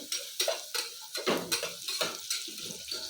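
A spoon stirs and scrapes through sizzling ingredients for sprouted fenugreek rice bath in a pan, making rapid rhythmic strokes over a low frying crackle. The sound is close and has no speech.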